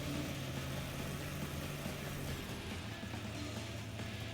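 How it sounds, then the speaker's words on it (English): A car engine in the video game Scaravan 66 drones at high revs near redline, a steady sustained hum that holds at one level without talk. "Oh, engine's redlining"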